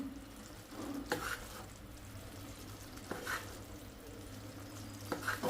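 A spoon stirs a khayam mixture in a pan, giving soft scraping strokes roughly every two seconds over a low, steady sizzle, fairly quiet and with no talk.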